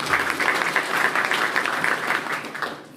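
Audience applause at a firefighter plaque dedication ceremony, a dense patter of many hands clapping at moderate volume that thins out toward the end.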